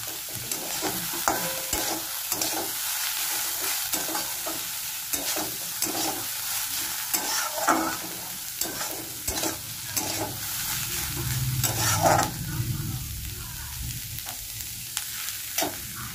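Black pepper, green chillies and spices frying in a pan, a continuous sizzle with repeated scraping and stirring strokes of a spatula at close range.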